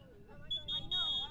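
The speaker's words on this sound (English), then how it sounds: "Timer going off." A timer alarm sounds at a field hockey game, giving a few sustained high electronic beeps in quick succession. The beeps are loud and clear over a steady crowd and ambient background.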